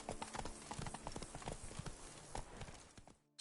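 Roach, a horse in a video game, galloping, with fast rhythmic clip-clop hoofbeats, close and fairly loud, slowing and dropping away at the end.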